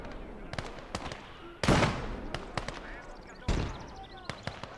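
Grenades exploding in the WWII strategy game Gates of Hell, two heavy booms standing out over a stream of sharp gunfire cracks, loud and close.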